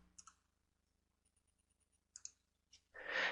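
Computer mouse clicks in a quiet room, a few sharp, close taps spaced apart, with one pair in quick succession, followed by a burst of soft broadband noise.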